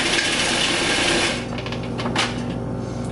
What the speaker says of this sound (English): So grind this into a paste.